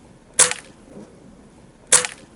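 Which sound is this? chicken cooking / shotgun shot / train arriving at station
shotgun shot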